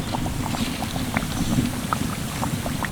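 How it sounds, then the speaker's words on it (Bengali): Fish fry pieces coated in crumbs are frying two at a time in plenty of medium-hot oil, giving a steady bubbling crackle with scattered small pops throughout. "এবার আমি এক এক করে ভেজে নেব"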